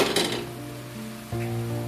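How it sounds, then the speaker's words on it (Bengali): A lid comes off a cooking pot of chicken drumsticks and potatoes set to boil, giving a short close metallic clink at the start, then a steady low hum continues underneath. "ঢাকাটা খুলে দেব।"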